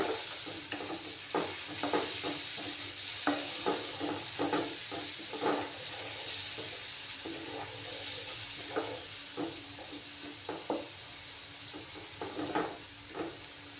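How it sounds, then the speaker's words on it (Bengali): Spices with salt for tangra fish curry are sautéed in a pan, with a gentle sizzle under a steady run of close, rhythmic spoon scrapes and knocks, and no talking. "এবার ভালো করে কষিয়ে নেব।"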